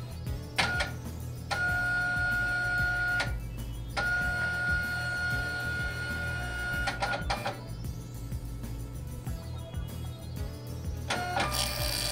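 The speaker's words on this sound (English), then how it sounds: "Allow the printer to reset and print a configuration label." A Zebra ZT230 label printer resetting after a firmware install and then printing a configuration label, with steady mechanical whirring, a few short beeping tones and intermittent clicks over a constant low hum, close and moderately loud.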